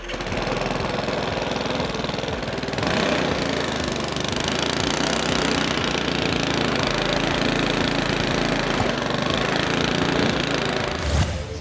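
A Chinga engine-driven generator runs steadily up close, a continuous loud mechanical drone with rapid knocking pulses throughout and no talk.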